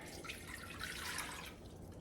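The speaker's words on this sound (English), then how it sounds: "So I'm going to go ahead and put in my water." Water poured into a pot for cooking supper makes a brief, steady splashing, trickling rush, close and moderately loud, with no talk.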